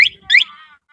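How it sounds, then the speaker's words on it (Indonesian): Two short electronic chirps from the alarm of an ATV 125 RFZ, set off by its remote, sound loud and close, and a faint ringing tail fades after them. "Di sini ada alarm ya."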